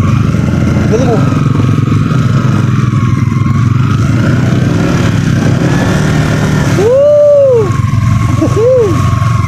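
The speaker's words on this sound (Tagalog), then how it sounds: "Sabak malala itong motor na to." A motorcycle engine runs steadily on an adventure trip, a continuous mid-level drone with rising and falling pitch sweeps near the end, while voices talk over it throughout.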